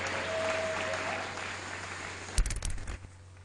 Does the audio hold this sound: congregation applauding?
yes